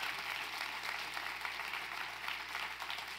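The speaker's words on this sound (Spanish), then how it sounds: "Si le das un aplauso a la palabra, dáselo más fuerte" Church congregation applauding during a Spanish-language worship service, a steady wash of clapping held at an even level for a few seconds with no voices over it.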